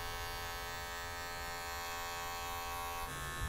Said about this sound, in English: You can use the corner of the clipper as well.